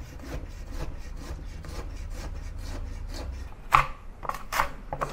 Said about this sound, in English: So we have the cucumber over here, and I want to cut it into julienne, into fine strips.